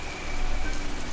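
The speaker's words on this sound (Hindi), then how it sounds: "लगातार हो रही मूसलाधार बारिश ने पूरे इलाके को अपनी गिरफ्त में ले रखा था" Torrential rain pours down at night over a village, a dense, even hiss that stays steady and fairly loud throughout with no voices.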